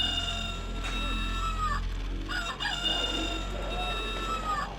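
Several roosters crow repeatedly outdoors on Waiheke Island, their drawn-out calls overlapping at mid distance over a steady low rumble, with faint clucking in between.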